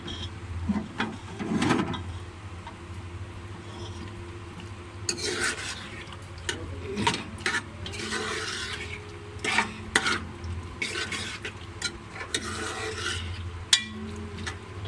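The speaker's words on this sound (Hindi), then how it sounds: "अब हम इसकी अच्छी तरीके से करेंगे बुनाई" Goat intestine (ojri) is stir-fried in a pan for a spicy salan. A spatula scrapes and clinks intermittently against the pan over a low sizzle, with no talk.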